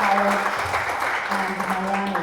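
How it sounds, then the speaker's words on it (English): An Economic Club of Miami audience at Miami-Dade College applauds to welcome the Atlanta Fed's Dave Altig: a moderate wash of clapping runs under a speaker's voice for the whole stretch. "let's give Mr. Altig a round of applause and a welcome"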